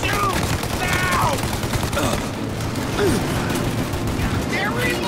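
Sustained gunfire from a shootout in the game Mafia Definitive Edition, dense and continuous with overlapping shots, under shouted voices throughout.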